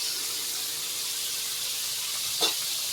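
Largemouth bass frying in hot oil, a steady, soft, even sizzling hiss that fills the moment, broken once near the end by a brief clink or clatter, with no talking.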